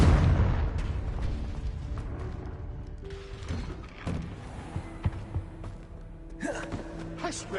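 A Confringo curse spell blasts in Hogwarts Legacy, a heavy booming burst at the start trailing into rumble, followed by scattered smaller pops and crackles, with no speech.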